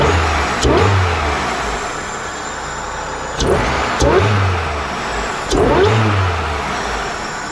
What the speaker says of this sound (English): Supercharger sounds nice.